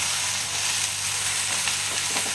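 Okra sautéing in a pan with turmeric and cumin for a mustard-poppy bhindi dish, giving a steady, close hiss of sizzling oil that runs through the whole stretch with faint stirring scrapes and no speech.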